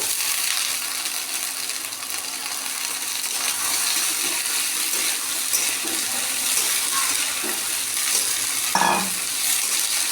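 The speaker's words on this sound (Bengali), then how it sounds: "পেঁয়াজটাকে আমি হালকা ভেজে নিচ্ছি" Onions sizzle steadily in a hot pan, with occasional scraping stirs and a brief louder clatter near the end; no voices.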